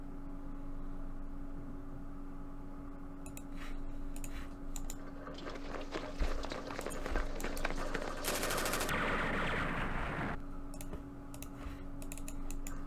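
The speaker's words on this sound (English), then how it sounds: "It's an anti-aircraft machine gun, which is even worse." An anti-aircraft machine gun fires in the Vietnam war strategy game Campaign Series Vietnam, a fast rattling burst of rapid shots that swells and then stops, heard against a quiet background with no talking.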